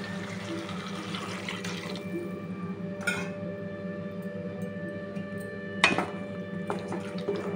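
Quiet water pouring into a cooking pot in a steady stream, half a litre for drumstick curry, with a low background hum and a couple of sharp clanks.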